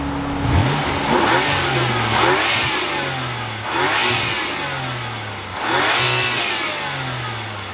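A BMW engine revs hard three or four times through a loud switchable sport exhaust, each throaty burst rising and falling back to a rumbling idle.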